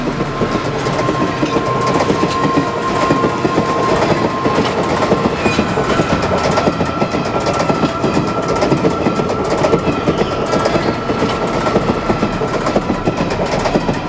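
A moving train rumbles along the rails with rhythmic clickety-clack and a steady loud roar from inside the carriage, in a dramatized crime scene, with no voices.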